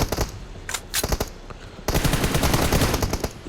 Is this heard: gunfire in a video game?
yes